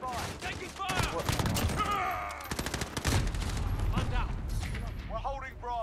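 Heavy gunfire in Call of Duty: Modern Warfare multiplayer, dense bursts of automatic shots and loud cracks going on throughout, close and intense, with voices shouting over the battle.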